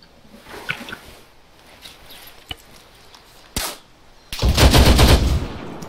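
Machine gun fire in the video game Arma 3 comes as scattered distant shots, then one sharp report, and finally a dense, loud, sustained burst near the end, with no talking.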